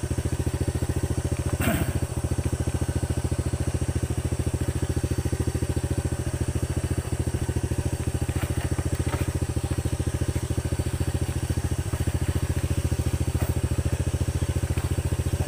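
A small old motorcycle engine idles and putters close by with a steady, rapid, rattling rhythm and occasional clanks.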